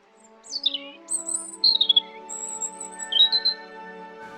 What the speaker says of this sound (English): Even beautiful things in nature, like the songs birds sing